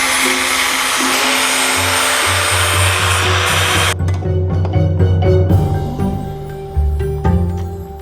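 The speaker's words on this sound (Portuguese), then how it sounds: "Isso aqui é uma maravilha, essa lixa. Deixa a solda da gente, que é uma solda bem bruta" A sanding disc on a grinder works down a rough, crude weld on metal stage machinery, a loud steady whine for about four seconds before the tone drops and wavers under continued grinding.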